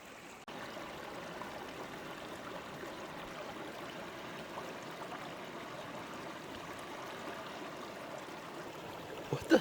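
A river runs over slick rocks in a steady, close rush of flowing water that holds even for the whole stretch, with one brief knock near the end.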